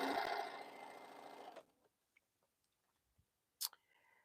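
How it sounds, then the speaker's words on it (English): A home sewing machine stitching two pieces of quilting fabric together for boho heart segments, a close whirring run of about a second and a half that stops, followed by faint clicks and a short handling noise. "while I'm sewing one, let's sew both"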